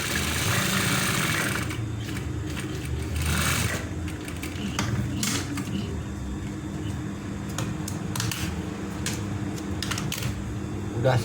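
A sewing machine hums and stitches steadily while a polo shirt button placket is sewn, a continuous close motor whir with faint clicks and small handling noises, and a person talks over it now and then.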